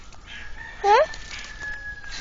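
Chickens in a coop behind a net enclosure, with a rooster present, give a short, clear squawking call up close, while faint background noise and a steady tone continue underneath.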